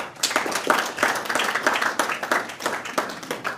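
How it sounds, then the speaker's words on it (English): Audience applause at the Smallholder Credit Fund launch, a dense, steady crowd clapping that fills the room for several seconds with no voices over it. "Another round of applause for him"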